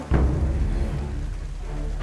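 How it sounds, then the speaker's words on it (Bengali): Heavy rain hisses steadily with a deep rumble like distant thunder beneath it, a thud near the start, no voices. "যে ঝড় বৃষ্টি শুরু হয়ে গেল"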